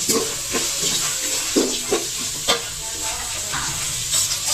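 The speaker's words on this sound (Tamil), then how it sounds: "நல்லா செவந்து வர வரைக்கும் வதக்கிக்கணுங்க" Large and small onions for chicken biryani sautéed in a hot pan, sizzling steadily up close with repeated spatula stirs and scrapes against the metal.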